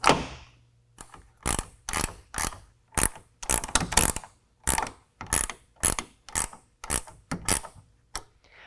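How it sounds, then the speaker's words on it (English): A 1/2-inch ratchet wrench tightens roof rack upright hardware on a 2019 Ram 1500, sharp clicking bursts repeating in steady strokes with brief pauses between, close and clear with no talk. "now we've got all of our upright hardware tightened down"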